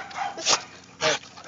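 A dog barks outdoors in a back yard, two sharp, loud barks about half a second apart, close by, with no talk over them.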